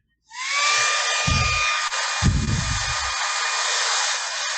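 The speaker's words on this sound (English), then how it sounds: "So this will dry pretty quick using the blow dryer." A hair dryer drying crackle paint switches on and blows with a steady, loud whooshing hiss and a faint whine, and bumps of handling break in twice.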